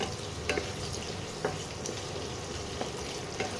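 Spices and ingredients frying in a pan for chicken masala, a soft steady sizzle with a few brief stirring scrapes at irregular intervals, fairly quiet and close, without talk.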